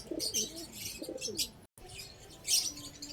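Pigeons coo softly in low, rolling calls, with some higher bird chirps and chatter in the background.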